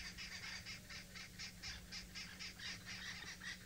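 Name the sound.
upset birds giving alarm calls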